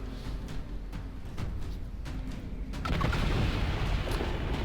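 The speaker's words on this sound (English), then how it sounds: "Cool guys don't look at explosions" Deep booming explosion in the video game Dragon Age: Inquisition, a low rumble that swells and grows louder midway, heavy and sustained with no talk over it.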